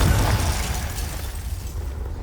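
A loud Confringo blasting-spell explosion in the Hogwarts Legacy video game: a heavy, close boom that erupts at once and then rumbles and decays over a couple of seconds, standing alone with no voices.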